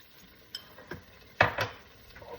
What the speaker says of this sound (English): Make sure it's all included in the saucepan. And stir that up.